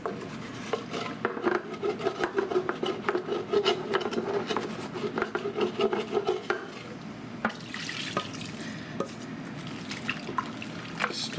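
A spoon works through chicken broth and roux in a pot for gumbo, with repeated wet scraping and sloshing strokes that bump against the pot. The strokes settle into a softer bubbling swirl near the end.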